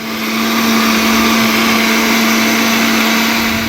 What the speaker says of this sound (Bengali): ব্লেন্ড করে